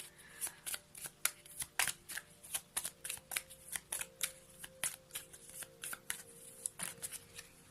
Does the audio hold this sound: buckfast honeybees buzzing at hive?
no